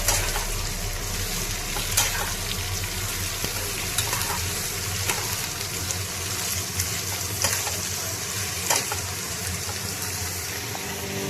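Potatoes and onion frying in a pan, an even hiss of hot oil with scattered scrapes and taps of stirring at close range, no talking over it.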